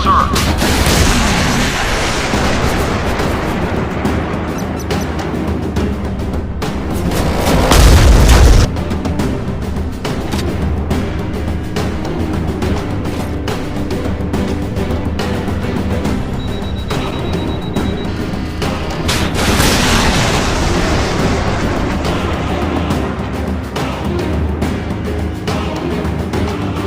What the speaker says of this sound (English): Missiles ready for launch, sir.